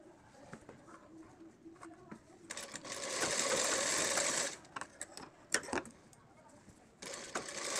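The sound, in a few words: sewing machine stitching Patiala salwar fabric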